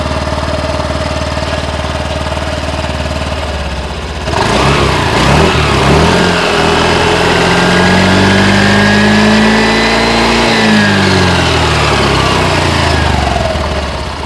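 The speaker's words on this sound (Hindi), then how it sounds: "अब आप इसके इंजन का साउंड सुनिए और इसका एग्जॉस्ट नोट भी सुनिए" A Honda Activa H-Smart scooter's small engine idles steadily with a buzzing exhaust, then revs up after a few seconds, the pitch rising and falling before settling back down.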